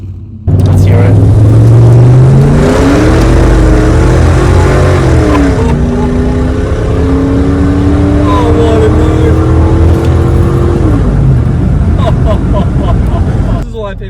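A V8 Holden Commodore VS SPAC with a 5-litre engine and 3-inch exhaust revs loudly and close, rising and falling through several sustained throttle blips, with voices talking over it.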